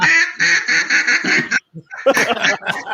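An electronic duck decoy on a timer quacks in a loud, steady series of calls inside a duck blind, followed by excited overlapping voices after a brief pause.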